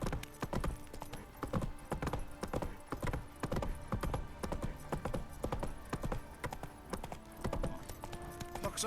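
Horse hooves clip-clop in a steady walking rhythm in The Witcher 3: Wild Hunt, close and fairly quiet, with a faint whinny behind them.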